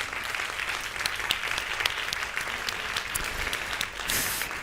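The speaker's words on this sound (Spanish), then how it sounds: "¿Cómo me gustaría que no tuviéramos que aplaudir ante estas cosas tan obvias?" An audience at a state conference on vicarious and gender violence breaks into sustained applause, a dense, even crackle of many hands clapping at close to mid distance with no voices over it.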